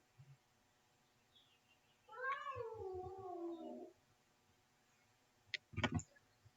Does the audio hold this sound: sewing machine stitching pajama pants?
no